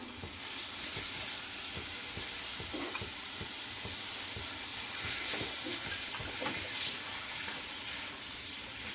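Potatoes and green peas sautéing in a pan for a North Indian-style potato curry give a steady, close sizzle and hiss throughout, with a few soft stirring scrapes and no talking.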